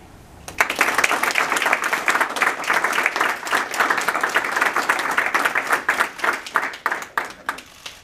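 A crowd at a press conference gives sustained applause to welcome a new university wrestling coach. The clapping holds steady and dense for several seconds, then thins out toward the end.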